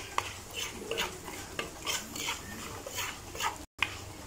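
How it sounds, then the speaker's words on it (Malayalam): Chili powder roasts in oil while a spoon stirs it in rhythmic scraping strokes against the pan, with a faint sizzle underneath and a brief gap of silence near the end. "നമുക്കിത് എണ്ണയിലിട്ട് നന്നായിട്ടൊന്ന് മൂപ്പിച്ചെടുക്കാം."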